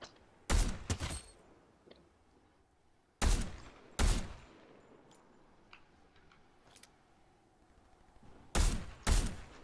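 Sniper rifle shots in the video game Fortnite: sharp, loud single cracks at irregular intervals, some in quick pairs, against a quiet background with faint ambient ticks.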